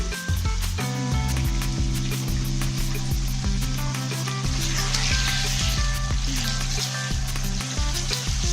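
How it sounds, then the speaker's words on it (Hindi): Ginger garlic paste hits chicken frying in a karahi, producing a loud, steady sizzle with a recurring low rhythmic thumping and a faint tonal hum underneath, close throughout. "अब इसमें मैं अदरक लहसुन का पेस्ट शामिल करूंगी"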